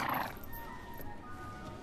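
A horse's whinny rings out briefly at the start, then fades into quiet outdoor background with faint hoof movement.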